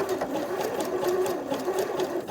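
A sewing machine runs a zigzag stitch along a fabric edge in the seam allowance, giving a steady close-up mechanical whir with a fast, regular needle rhythm.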